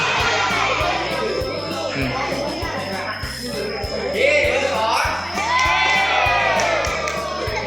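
A school cheering squad shouts and cheers at a student council election, a crowd of young voices chanting steadily over a rhythmic drumbeat, with bursts of whooping and chatter.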